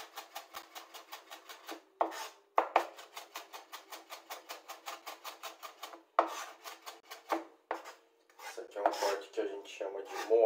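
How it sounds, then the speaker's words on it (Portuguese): Knife finely mincing onion on a cutting board, a fast run of steady, even chops in quick bursts with brief pauses, close and crisp, no talking. "A gente vai moer essa cebola na faca."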